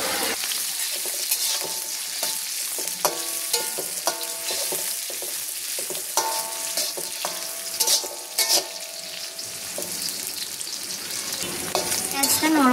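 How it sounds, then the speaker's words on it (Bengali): Chopped onion fries in hot oil for a beef bhuna, giving a steady, close sizzle with occasional ringing scrapes of a utensil stirring the pan. "পেঁয়াজটাকে তেলের ভিতরে যতক্ষণ না নরম হয়ে আসে ততক্ষণ পর্যন্ত ভেজে নেব।"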